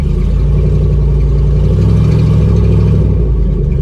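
A rusty old Ford F-250 with a 5.8 engine and no oil pressure, after sitting for years, runs loud and close, its rough low rumble swelling briefly under a light touch of throttle then settling back.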